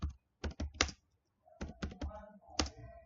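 Keyboard typing as PHP code is entered into an editor on a computer: two quick clusters of sharp clicking keystrokes separated by a short pause, close and moderately loud, with no talking.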